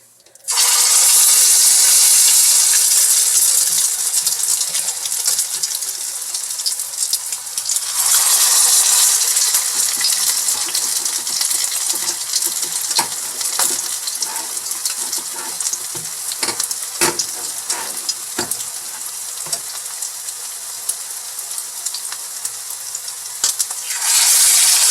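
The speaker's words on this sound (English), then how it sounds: "Now I'm going to put these croquettes in the grease." Salmon croquettes fry loudly in hot grease, a dense constant sizzle and crackle that starts abruptly and carries on throughout, with scattered sharp pops and spatters.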